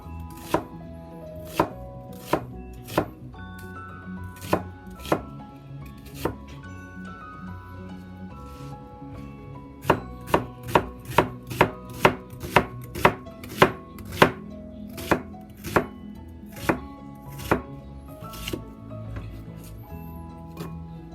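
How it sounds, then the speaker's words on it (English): A knife slices food as thinly as possible on a cutting board for fried sausage with onion, with sharp evenly spaced chops that speed up into a quick run partway through. "Then we cut it. Try to cut it as thin as possible."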